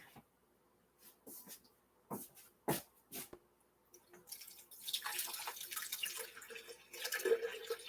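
Four cups of water are poured into a blender to make oat groat milk. A few scattered drips and splashes give way to a steadier pour in the second half, fairly close and moderately quiet.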